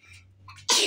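A single sneeze bursts out sharply near the end, loud and close, after a brief quieter breathy lead-in.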